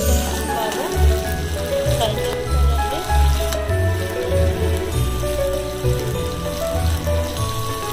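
Chopped onion and green chilli hiss and crackle in a hot pan for beetroot upma, a dense close sizzle with low thumps and knocks of utensils, while someone talks over it.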